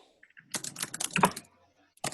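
Keystrokes on a computer keyboard in a lab setting, a quick burst of clustered clicks across about a second, then a brief pause and a few more taps, close and moderately loud with no talking.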